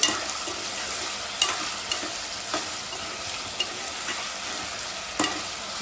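Potatoes frying in a pan, a soft steady sizzle with periodic sharp clicks and scrapes from stirring, fairly quiet and close, no voices.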